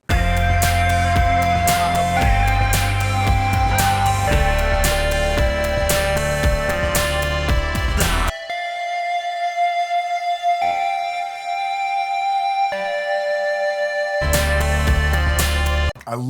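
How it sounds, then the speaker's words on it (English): A lead synth line from a remix sample bank plays inside a full electronic mix: bright sustained melodic tones over a pulsing beat, dropping to the synth alone with sparse accents midway before the full track returns, loud and close. "I love that lead synth line, Jude."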